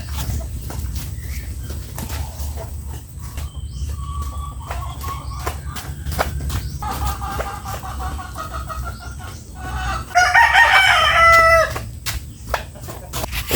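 Chickens cluck and a rooster crows loudly near the end of a farmyard scene where poultry are being made to exercise, with scattered clucks and rustling throughout.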